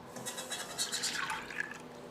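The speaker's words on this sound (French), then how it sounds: "je vais mettre mes 300 g de lait dans ma casserole directement." Milk poured straight into a saucepan, 300 g of it, makes a soft, continuous liquid fill with a rising pitch and faint drips, quiet and close.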